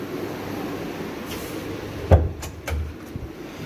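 A wardrobe door on a four-door white Iraqi wardrobe with black inlay swings open, giving a single sharp knock followed by a few lighter thuds and a soft rumble, close by with no talk.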